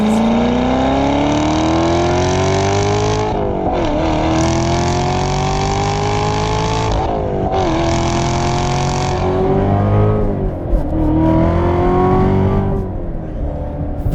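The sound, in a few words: Corvette Z06 supercharged 6.2 liter V8 accelerating, tires spinning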